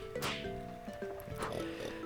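Cartoonish pig oinks from a video game, several short snorting grunts over a layered tonal music bed, spaced unevenly across a couple of seconds.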